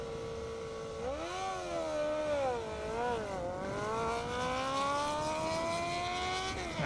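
Honda CBR 1000RR and Kawasaki ZX10R sportbikes rev at a drag race start, their engines rising and falling in sharp, overlapping pitch sweeps before settling into a long climbing wail, heard from a moderate distance.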